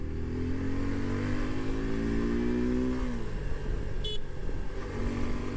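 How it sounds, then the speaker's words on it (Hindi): A Suzuki V-Storm 250 SX motorcycle engine revs up to high RPM, the pitch climbing steadily for about three seconds before dropping back, then rising again, with a brief horn-like toot in between. "लेकिन हाई आरपीएम पे एक बार मैं आपको फिर से दिखाता हूं।"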